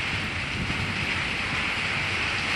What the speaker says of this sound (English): Right now, all I can hear is thunder from the clouds and rain on the carport covers.